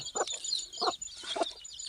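Native desi hen and her tiny few-day-old chicks cluck and cheep nearby, with soft repeated clucks under a layer of thin, high peeping.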